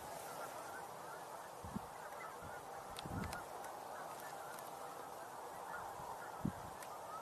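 Geese honk from a distance in scattered, soft calls over a steady wash of outdoor background noise, with a few slightly louder honks standing out now and then.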